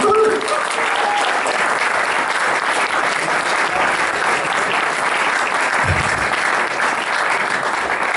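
Audience applause at a Liquid Architecture sound-art festival event at the Hellenic Club in Perth, a steady dense wash of clapping that holds loud and even for the whole stretch, with no talk over it.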